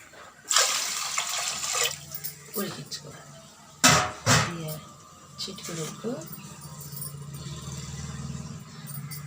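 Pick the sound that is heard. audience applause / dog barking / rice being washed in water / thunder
rice being washed in water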